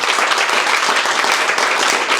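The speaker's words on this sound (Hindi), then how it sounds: "मिलन सर, दीपक सर के लिए जोरदार तालियां" Students in a mobile repairing course clap for their teachers, a loud, busy burst of many hands with individual claps standing out, sustained evenly and close.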